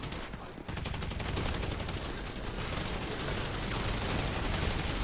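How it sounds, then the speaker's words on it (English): Rapid, continuous minigun fire in a video game, a dense steady stream of shots that starts abruptly and holds loud throughout. "stop using a minigun"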